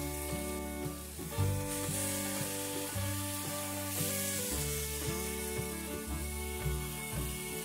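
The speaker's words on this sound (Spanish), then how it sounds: "Ahora voy a echar a dorar los chiles." Cheese-stuffed chili peppers for Sonoran-style hot dogs browning in a pan, giving a constant crackling sizzle that plays under loud background music.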